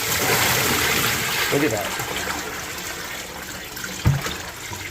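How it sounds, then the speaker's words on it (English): Dirty water from an aquarium sump sponge filter is poured out in a steady splashing, trickling flow close by, with a louder splash near the end, while someone talks briefly. "But watch as I pour this out, you guys."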